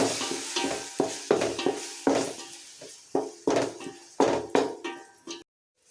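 Garlic paste being stirred in a hot pan for chicken biryani: repeated scraping, knocking strokes of a spoon against the pan in an uneven rhythm over a soft sizzle, close and clear, ending abruptly.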